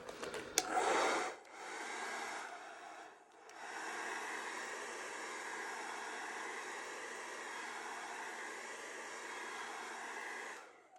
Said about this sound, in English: I'm just going to give it a gentle dry with a cool setting on the hairdryer